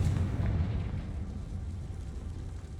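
In the Hogwarts Legacy video game, a Confringo blasting spell lands with a low, rumbling explosion that fades into a dull, churning roar over a few seconds.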